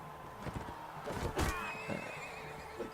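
A horse neighs loudly in a medieval battle video game, a shrill wavering whinny in the middle with hoof thuds and game clatter around it and no speech.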